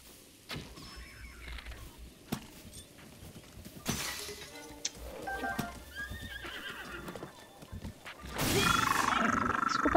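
A horse in Zelda: Breath of the Wild neighs loudly in bursts over hooves and scattered game effects, and a sharp shattering crash comes near the end. No one speaks.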